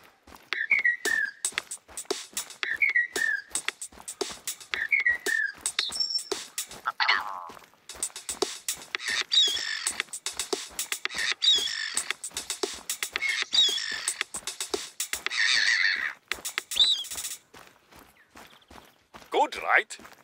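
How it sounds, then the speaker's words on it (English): A short, playful tune assembled from recorded bird calls in the Revontuli Coast hunting game: bright whistled chirps repeat in a steady pattern, followed by dense, rapid tweeting and clicking, loud and close throughout. "We recorded the call of some birds and made this."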